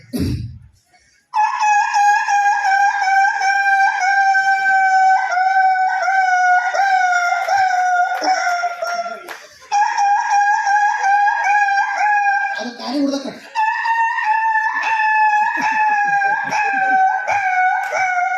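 A human voice imitates a rooster crowing in two long, loud, drawn-out calls, close and strident, with a brief break between them.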